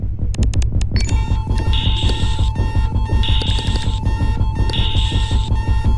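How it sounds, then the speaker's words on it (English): An alarm in the game Casualties: Unknown beeps loudly in repeated electronic bursts over a continuous low throbbing drone, with a few quick high chirps at the start. "The beeping is super stressful."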